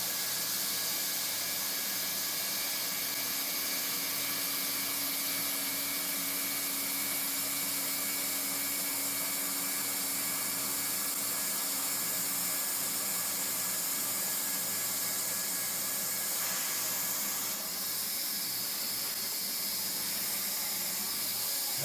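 A plastic welder with a straight blade-type tip melts and tacks lithium battery case parts together, giving a steady, close hiss that runs unbroken from start to finish.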